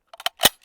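A single sharp gunshot from a Chinese SKS rifle in 7.62x39 with 122-grain full metal jacket ammunition, fired at body armor at close range, comes as one brief crack after a few faint clicks.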